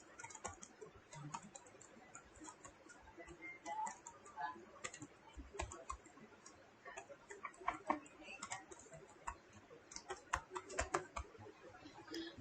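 Keys on a computer keyboard are typed in quick irregular bursts while entering mail merge records, close and fairly faint, with scattered sharper clicks and no talking.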